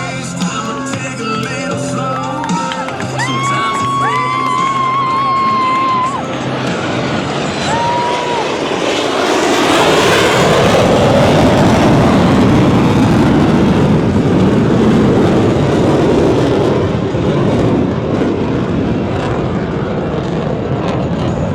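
US Navy Blue Angels jets fly the Delta Breakout at the Cleveland National Airshow, a building roar that swells into a loud, sustained rushing blast as they pass overhead, with an announcer's voice over the start.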